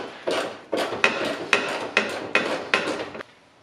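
A 10mm socket wrench works fender bolts loose on an Audi A4 B6, giving about seven sharp, evenly spaced metallic clicks and knocks, close and loud, with no talking.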